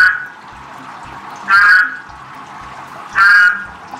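A horned frog gives loud, harsh croaking calls, one fading at the start and two more bursts spaced about two seconds apart, each standing out clearly over a quiet background.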